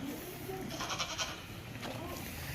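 Goats bleating at a goat farm, a few overlapping calls rising over steady low background noise and farmyard bustle, fairly close.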